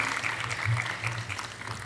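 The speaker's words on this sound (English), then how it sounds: "Just all welcome them with a round of applause." Applause from an audience at a university inauguration ceremony welcoming dignitaries to the stage, a steady wash of clapping throughout with no pauses, with a faint low hum beneath it.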